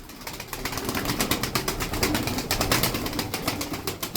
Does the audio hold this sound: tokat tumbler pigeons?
yes